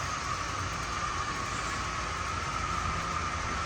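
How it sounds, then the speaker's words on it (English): Two HO scale Proto 2000 Amtrak model locomotives run on a layout, giving a continuous, even rolling rumble with a steady motor hum, close and unbroken throughout. "The Amtrak you just seen are 2 Proto 2000 units I got for dirt cheap from an auction"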